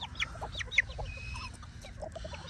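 An Old English game bantam pumpkin hen and a black cockerel cluck softly, with short scattered notes and a few sharper peeps, close by over a low background rumble.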